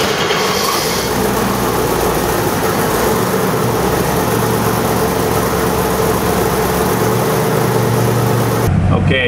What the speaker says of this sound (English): here we are, 427 twin turbo X-Ram prototype, 700 RPM idle